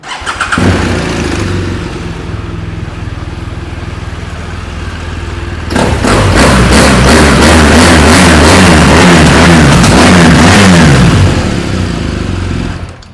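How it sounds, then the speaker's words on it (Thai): A BMW R1200GSA motorcycle (2019) engine idles with a steady rumble, then revs up louder and keeps running with a throaty, pulsing drone. "ลองฟังเสียงเครื่องยนต์กันดูครับ"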